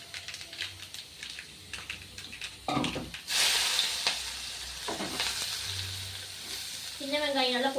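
Mustard seeds, then small onions, green chilies and curry leaves drop into hot oil for a goat blood stir-fry, setting off a loud, steady sizzle and crackle with stirring scrapes, and a voice speaks near the end.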